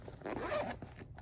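Zipper on the larger zip pocket of a ThirtyOne crossbody bag, a single close, fairly loud rasping pull lasting about a second, with no talk.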